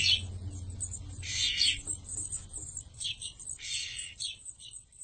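A 5-day-old chickadee chirping, giving a few thin, high-pitched peeps in short bursts, faint and close, over a low background hum.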